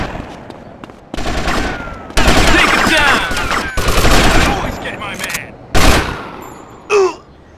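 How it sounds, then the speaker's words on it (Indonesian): Bursts of gunfire from the video game GTA Vice City Stories, loud rapid volleys lasting a second or more each, separated by short gaps, ending with a brief final burst. "Oh, ada suara tembakan."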